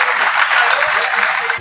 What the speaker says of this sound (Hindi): एक मरतबा और तालियों से उनका इस्तकबाल कीजिए।